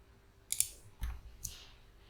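A few quiet, sharp clicks of a computer mouse, spaced out over a couple of seconds in a still room.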